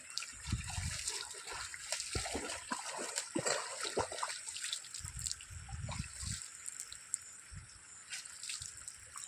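Rainwater from an overnight downpour flows across farm fields after an embankment breach. It makes a soft, continuous trickle with scattered splashes and low gurgles, heard faintly from nearby.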